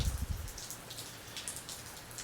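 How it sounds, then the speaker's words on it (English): Rain falling outdoors, a steady patter of drops tapping on surfaces for a couple of seconds, with no voices. "This rain right here, guys,"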